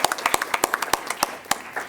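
A small group applauds at a city commission meeting, with a couple of seconds of loose, irregular hand claps, fairly close and distinct, few enough to pick out individual claps.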